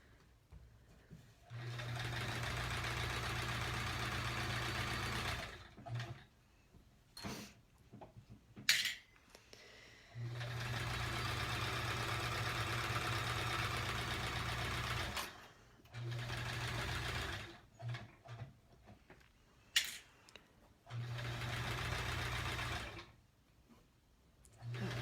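A home sewing machine stitches rows of a Triangle Tango quilt in long, steady whirring runs of several seconds each, separated by short pauses with faint clicks and handling noises.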